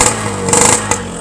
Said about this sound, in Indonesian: Nah, ini dia suara motornya. Jadi ini sebenarnya knalpotnya knalpot standar ya.